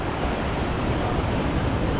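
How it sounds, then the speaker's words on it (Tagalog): Strong ocean waves break on a beach in a steady, broadband wash of surf with wind rumble, continuous and fairly loud for the whole stretch, with no talk over it. "Lakas ng alon, no?"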